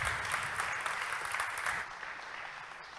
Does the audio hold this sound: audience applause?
yes